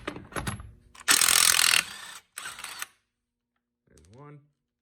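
A HYCHIKA cordless impact wrench loosens reverse-thread nuts on a vehicle, firing two loud, close hammering bursts of about a second and half a second after a few clicks of handling. A brief voice follows at the end.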